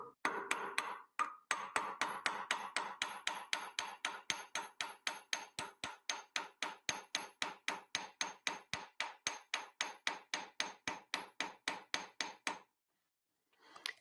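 A hammer tapping a bent metal piece to straighten it, a long, even series of sharp, bright ringing strikes at roughly three per second, close and alone, ending in a pause and one last tap.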